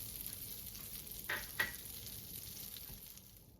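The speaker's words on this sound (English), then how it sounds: "So I'm gonna add the 6 tablespoons of butter to the saucepan. Let it melt." Six tablespoons of butter melt in a saucepan with a soft, steady sizzle, faint and close, broken by two brief scraping stir sounds partway through; no one speaks.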